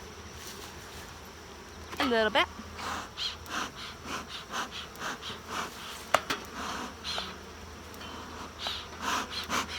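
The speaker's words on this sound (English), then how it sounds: "first visual, bees are happy, bees are healthy" Steady honeybee buzzing from a hive during an inspection, a low continuous drone under soft, intermittent speech, with occasional smoker puffs and clicks nearby.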